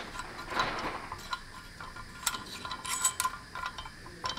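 Metal nut being tightened onto a single-stage regulator bracket, giving faint, scattered mechanical clicks and ratchet-like ticks spread over a few seconds against a quiet room.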